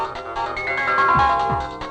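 A mobile phone ringtone plays a looping electronic melody with rising and falling tones, steady and fairly loud indoors, with no talking over it.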